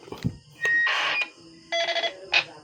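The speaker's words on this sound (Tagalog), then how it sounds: "Roger Beep." Short electronic roger beep tones from a radio sound in bursts, a few sustained chirps and a final brief blip, clear and close with no talking.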